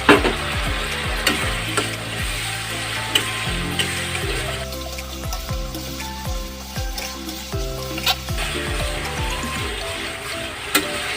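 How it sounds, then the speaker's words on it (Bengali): Spiced paste with peanuts is slowly sautéed over low heat in a pan, a steady frying sizzle broken by repeated scraping and clanking strokes of a spatula against the metal, close and fairly loud throughout. "দেখুন আস্তে আস্তে আমি কষা কষাচ্ছি আর এখান থেকে বাদাম থেকে তেল বের হচ্ছে"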